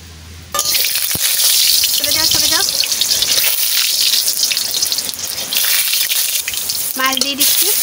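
Fish for a fish curry drop into hot oil in a pan, starting with a sudden loud hiss that settles into steady sizzling frying, with a few clinks of utensils along the way.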